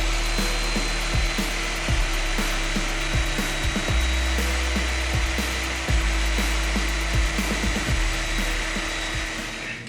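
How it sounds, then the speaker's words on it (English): An upper control arm ball joint on an off-road Explorer is cut off with a power tool, a loud rough grinding and rasping that runs continuously for about ten seconds with repeated strokes and knocks, with no talking. "cut off that ball joint there, and then remove the upper control arm"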